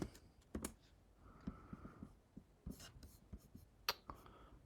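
Quiet computer keyboard typing in short irregular bursts of key clicks, close and soft, with a few louder taps and faint background hum; no talking.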